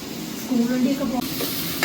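Onions frying in oil for chicken biryani, with a steady close sizzle and a spoon stirring and scraping the pan, plus a short scrape near the end; no speech is heard.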